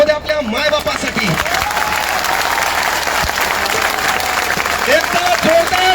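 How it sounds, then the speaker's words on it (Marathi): Loud applause from a crowd of protesters and students at a rally against MPSC online exams, dense sustained clapping throughout with voices shouting over it. "एकदा जोरदार टाळ्या होत्या आपल्या मायबापासाठी."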